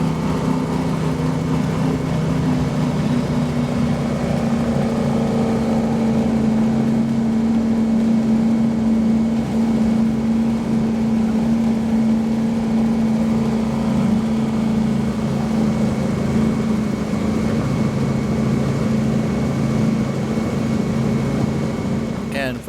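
Mercury Racing 1100 engines powering a Cigarette 42X powerboat running fast on calm bay water, a loud, steady low drone with wind rush throughout, continuous and close, with faint voices underneath.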